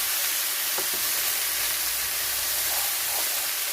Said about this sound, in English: gonna stir this with just a good stir